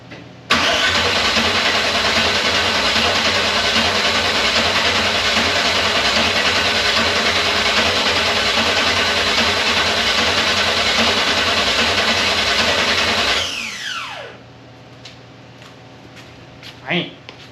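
An engine with a QFT double pumper carburetor cranked by its starter, a loud, steady, rhythmic churning close by that runs for about thirteen seconds, then winds down and stops, followed by a few faint clicks.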